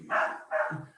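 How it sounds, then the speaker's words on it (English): A dog gives two quick, soft barks in the background of an indoor room, faint and close together, with nothing else around them. "you can probably hear my dog in the background"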